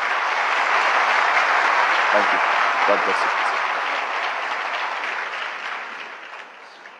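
An audience at a church meeting applauds a pastor in a sustained wave of clapping that slowly fades out, while a voice speaks briefly over it.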